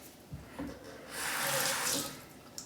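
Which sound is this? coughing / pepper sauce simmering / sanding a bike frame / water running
water running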